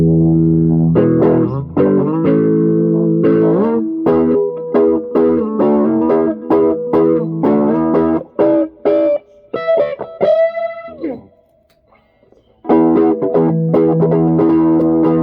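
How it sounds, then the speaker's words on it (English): Peavey Classic VTX guitar amp with the pre-gain turned all the way up, giving loud overdriven distortion on strummed chords and single notes, with a brief near-silent gap before chords ring out again. "So that like really pushes it into overdrive."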